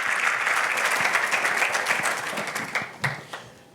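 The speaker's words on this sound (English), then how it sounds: "Please, a round of applause for the panel." Audience applause for a panel at a space and defense industry summit in Seville, a dense wash of many hands clapping that fades toward the end, with no talking over it.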